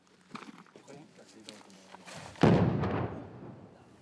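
Army engineers detonate abandoned munitions in the Malian desert: one heavy blast booms out after a stretch of talk, then rumbles and fades.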